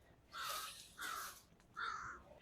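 A crow caws three times at a steady rhythm, each call harsh and fairly close, with short quiet gaps between them, heard outdoors on a dog walk.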